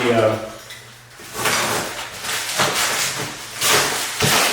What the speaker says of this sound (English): I'm just opening the battery pack and it's wrapped in bubble.